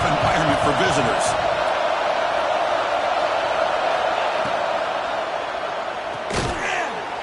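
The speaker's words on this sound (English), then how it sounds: "Listen to the crowd energy here in the early going." A stadium crowd roars continuously at a college football game, a dense, loud wash of cheering that holds steady throughout, with a sharp thump near the end.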